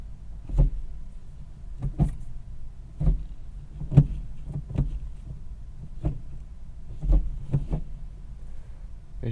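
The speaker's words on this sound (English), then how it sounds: "Let's listen to some shift throws here." Gear shifts on the manual shifter of a 2023 Honda Civic Type R give a series of faint, close, irregularly spaced clicks and clunks inside a quiet cabin.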